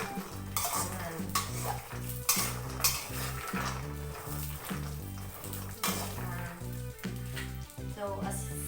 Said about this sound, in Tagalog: dapat di ka magundang og halo-halo para maluto sila